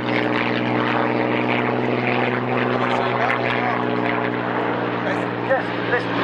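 Hawker Hurricane and other Rolls-Royce-engined piston fighters at a 1997 Duxford airshow roar past, a steady loud drone of propeller engines with strong harmonic hum throughout, a commentator's voice talking over it.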